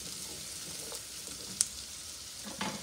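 Squash cooking in a pan with a soft, steady sizzle, a few light stirring clicks and scrapes, and one sharp tap near the middle, close and fairly quiet with no voices.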